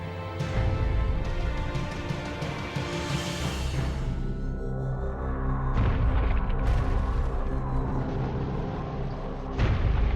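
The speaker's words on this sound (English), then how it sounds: "the harbour is rocked by a devastating series of explosions" Depth charges explode in Sydney Harbour, a series of heavy, rumbling booms spaced several seconds apart, each rolling on into a long, dense rumble.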